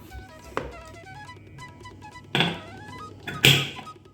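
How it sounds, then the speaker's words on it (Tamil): A pressure cooker lid is set in place and its whistle weight fitted on while dal is being cooked, giving three distinct clattering metallic knocks, the last the loudest, over quiet room ambience with no talking. "இப்போது குக்கர் மூடி போட்டுட்டு விசில் போட்டுடலாம்"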